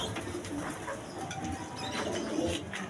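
Pigeons coo in soft, repeated throaty rolls close by, with a few light chirps and faint wing flutters mixed in and no voices over them.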